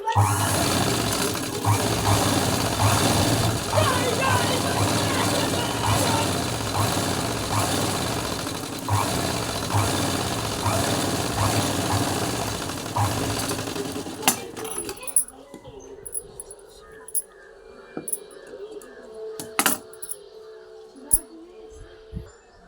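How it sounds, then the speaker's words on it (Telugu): A sewing machine runs steadily for about fifteen seconds, stitching piping onto a blouse, a close, continuous mechanical hum that then stops, leaving scattered handling clicks and rustles. "వన్ సైడ్ అంతా స్టిచ్ చేసుకోవాలి."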